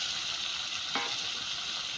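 Potatoes go into spice masala frying hard in a pan while cooking a quail egg recipe in a village setting, giving a loud, steady close-up sizzle with a brief splash of added ingredients partway through.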